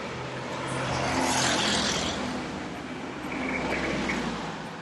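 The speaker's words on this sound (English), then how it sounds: "There seems to be a few Ancots driving on this main road" Angkot minibuses and other traffic rumble along a busy main road, a continuous roar of engines that swells as vehicles pass nearby and then eases off.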